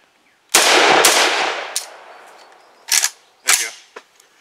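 A Galil ARM rifle replica fires at an outdoor range: a sharp rapid burst followed by a few separate louder cracks, close and loud, each trailing off in echo.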